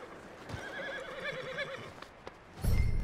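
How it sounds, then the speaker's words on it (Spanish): A horse in Red Dead Redemption 2 gives a wavering whinny, followed by a few soft hoof knocks and a louder burst of movement near the end. "Vamos a calmar al caballito."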